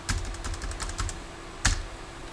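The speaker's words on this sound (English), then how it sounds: "When I'm typing in the scale, I never put the 1 colon part of it." Fingers type a map scale on a computer keyboard, a quick run of close key clicks followed by a pause and one firmer keystroke, like pressing enter, in a quiet room.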